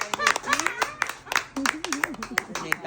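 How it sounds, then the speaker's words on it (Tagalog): A few people clapping in sharp, uneven bursts beneath someone talking continuously, the claps crisp and near. "Palakpak muna."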